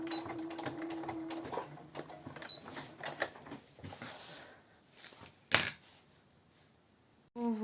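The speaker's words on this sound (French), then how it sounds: "Je termine, je couds ça" A domestic sewing machine stitching fabric at home, its rapid mechanical clatter running in uneven bursts with brief pauses and a sharp knock near the end, fairly close and moderately loud.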